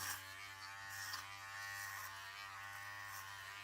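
Steady buzzing of electric hair clippers running close up during a 1/8-inch buzz cut, a constant low hum with slight shifts as they pass through hair.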